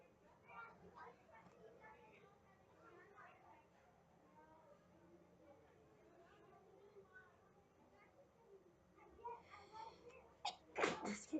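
A single sharp sneeze bursts out near the end, after a stretch of quiet conversation between people.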